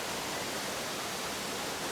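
Korbu waterfall on Lake Teletskoye in the Altai mountains, a dense, steady hiss of falling water with no breaks, even and continuous for the whole moment.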